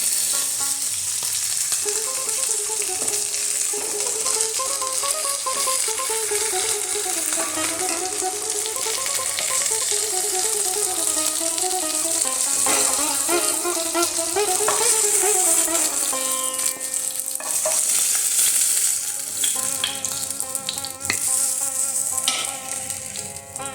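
Marinated chicken sizzles loudly in hot oil while being stirred, a continuous crackling hiss with occasional scraping, accompanied by a wavering background melody that fades toward the end.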